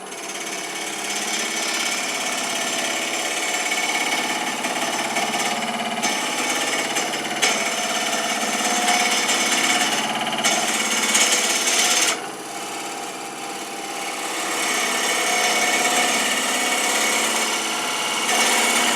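Crepe myrtle wood spinning on a lathe while a turning tool cuts it, giving a loud, steady, rough grinding and whirring that runs without a break and shifts slightly in tone as the cut varies, with no voices.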